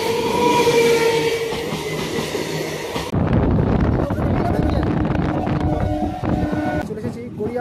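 A train at Garia railway station in Kolkata, a loud close rumble of passing rail cars with heavy wind buffeting the microphone and occasional wheel screech.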